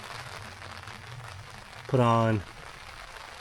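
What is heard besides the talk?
rain falling on a campsite by a mountain pond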